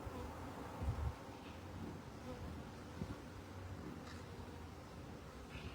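A honeybee swarm buzzes and fans in a continuous dense drone, a low steady hum with a few brief louder bumps near the start, heard up close with no talk.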